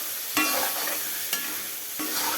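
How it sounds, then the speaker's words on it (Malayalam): Masala paste for a Kerala-style fish curry sautéing in oil in a pan, a steady close sizzle with stirring scrapes and a few louder clatters, no voices. "എണ്ണയ്ക്കകത്ത് കിടന്ന് നന്നായിട്ട് വരട്ടി എടുത്തിട്ടുണ്ട്."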